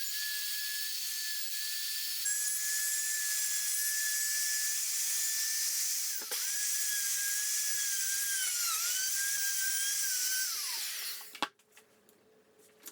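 Router cutting a tenon in wood guided by a mortise and tenon jig, a loud continuous high-pitched whine that wavers slightly as the bit moves around the edge, then winds down and cuts off near the end.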